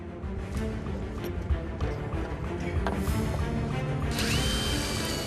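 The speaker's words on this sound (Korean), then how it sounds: "싱크대에 구멍을 뚫어 수평을 맞출 다리를 설치합니다." A power drill bores a hole into a kitchen sink cabinet during a remodel, whirring in short and longer runs with rattling mechanical noise, close and loud, with no speech.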